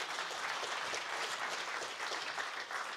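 Distant, soft audience applause at a product launch conference in France, an even, continuous patter of many hands with no voices over it.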